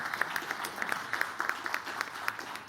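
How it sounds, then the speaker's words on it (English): Attendees at a Washington policy event on the DRC's mineral opportunities applaud to honour a guest. The clapping is moderate and steady, with sharp individual claps standing out over a soft crowd wash. "It deserves a round of applause"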